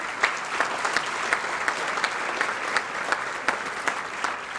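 An audience at a chamber of commerce annual dinner breaks into sustained applause, a dense, even patter of many hands clapping throughout.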